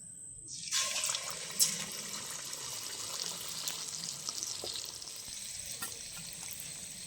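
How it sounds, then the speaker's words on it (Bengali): Potato chops (alur chop) dropped into hot oil, with a sudden burst of sizzling that settles into a continuous, bright crackling fry. Faint clinks of handling can be heard, and there is no speech. "তেলটা গরম হয়ে গেছে এবার আমি সব এক এক করে দিয়ে দেবো তেলের মধ্যে"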